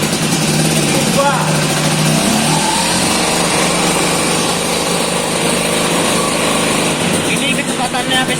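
A Vespa scooter engine runs hard on a dynamometer in second gear, a loud, steady, buzzing drone that holds near full throttle for the whole stretch with slight waver in pitch.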